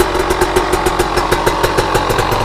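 A fuel-injected KTM dirt bike engine idles steadily during warm-up, a loud, close, even mechanical throb with a rapid regular pulse and no speech.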